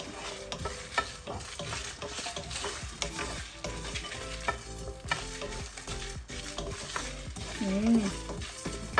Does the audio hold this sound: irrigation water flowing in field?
no